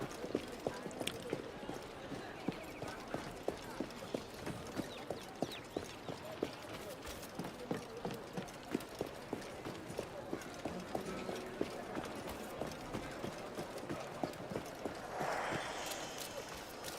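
Horse hooves gallop in a steady, rapid clip-clop through a long stretch in the Assassin's Creed Black Flag video game, with soft background ambience and a faint swell near the end.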